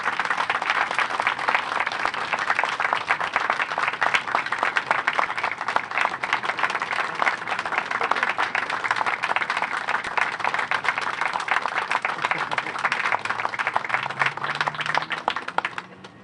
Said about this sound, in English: I think we owe him a real round of applause